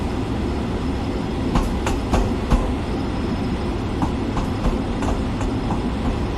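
An LIRR train in Train Sim World 3 passes close by with a loud, continuous rolling roar and a regular series of sharp clacks as the wheels cross the rail joints. No one speaks.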